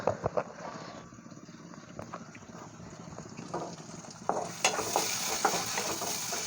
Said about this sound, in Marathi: तेल सुटेपर्यंत आपण मसाला शिजवून घेऊया